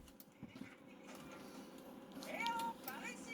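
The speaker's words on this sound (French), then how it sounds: "Oui, t'as un chat." A cat meows a few times close by near the end, its short rising and falling cries standing out over faint background noise and soft earlier knocks.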